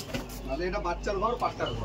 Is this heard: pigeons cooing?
yes